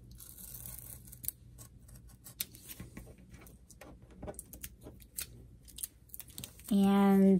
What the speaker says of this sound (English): I'm just going to trim this off next to the paper,